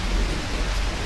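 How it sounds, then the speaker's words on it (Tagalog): Heavy rain pours steadily with a dense, even hiss and a low rumble underneath, unbroken and close, no voices. "Tapos, naabutan ako ng malakas na ulan."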